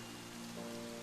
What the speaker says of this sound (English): At the sound of the rain beginning to fall, Yamato mumbles with annoyance.